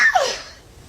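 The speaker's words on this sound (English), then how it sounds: "That's a heavyweight sneeze." One loud, sharp sneeze bursts out close by and quickly trails off into a short breathy tail.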